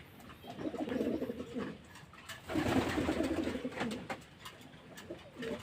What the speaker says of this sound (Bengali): চলুন এবার ধাড়ি পায়রাগুলো দিই দেখুন বন্ধুরা কেমন জলটা দিতে ভিতরে পায়রাগুলো খাচ্ছে